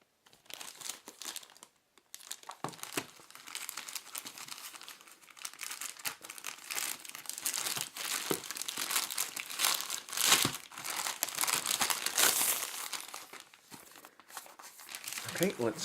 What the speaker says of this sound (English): let's go ahead and open up the package